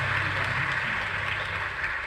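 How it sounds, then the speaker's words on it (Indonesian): An audience applauds during a satirical talk, giving a steady, dense wash of clapping that lasts about two seconds. No one speaks over it. "boleh tepuk tangan buat Gajah Mada"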